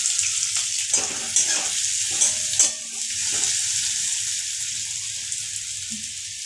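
Potatoes frying in a pan with chili and curry leaves give a steady close sizzle, with spoon stirring and scraping against the pan early on.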